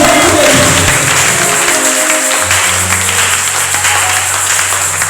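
A church congregation applauds and cheers during a worship service, dense, loud clapping filling the room without a break, with a low sustained tone entering partway through.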